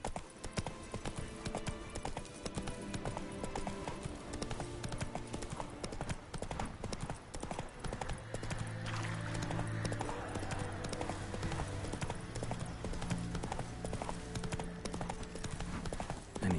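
A horse gallops in The Witcher 3: Wild Hunt video game, its hooves beating out a rapid, steady clip-clop rhythm that carries on throughout, loud and close.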